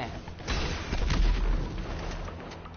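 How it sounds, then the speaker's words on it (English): Flare gun fired in a video game, heard as booming, muffled bursts with a rumbling low end that rise and linger, with no talking. "I just shot a flare gun instead of RPG"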